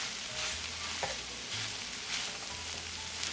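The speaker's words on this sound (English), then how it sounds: "we're just going to let this saute for a few minutes just to take on some flavors" Cauliflower sautéing with andouille sausage, onions and peppers for a keto jambalaya, a steady soft sizzle continuing close by with a few faint stirring sounds.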